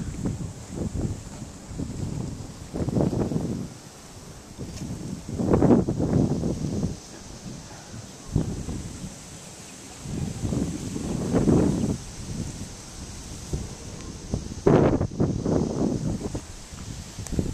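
Gusty wind buffeting the microphone in uneven surges at Matheson Hammock Park in Miami, with rustling in the background and no one speaking.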